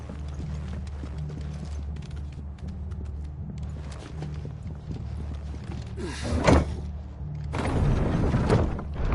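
Horse hooves clip-clop in Final Fantasy XVI as a steady rhythmic trot over a game soundscape, with a brief clattering burst midway and louder, busier hoofbeats toward the end.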